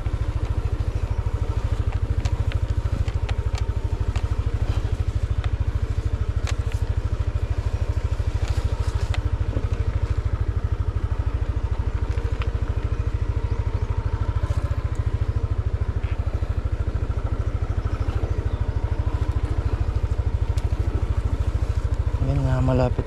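A motorcycle grinding up a steep, narrow, partly rocky road in Cebu, the engine holding a loud, continuous pulsing drone at close range while people talk over it.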